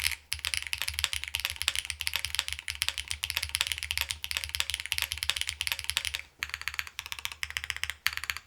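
Fast, steady typing on a Xenox mechanical keyboard with HMX Hydra switches, gaskets removed: dense, crisp clacks close up with a low thock beneath, a brief pause, then more bursts of keystrokes. No talking.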